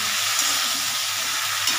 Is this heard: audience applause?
no